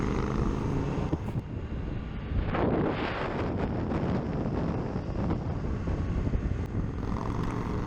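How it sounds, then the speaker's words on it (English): Wind buffets the rider's microphone aboard an Indian FTR 1200 motorcycle with no windscreen, merging onto an interstate highway; a loud, rumbling roar that swells and dips unevenly throughout. "so there's a bit of wind noise depending on where I'm looking"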